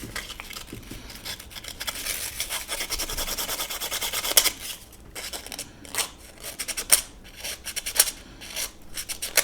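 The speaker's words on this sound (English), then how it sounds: "clean it with some thin sandpaper like this, 600" Fine 600-grit sandpaper rubbed over a contact on a vintage Philips N 4502 reel-to-reel tape recorder, a close, steady scratchy rasp for several seconds, then shorter broken strokes with brief pauses.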